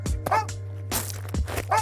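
A dog barks from a home ambient-noise recording meant to fake occupancy, several short sharp barks and yips at an uneven pace, fairly loud and close, with a steady electrical hum beneath.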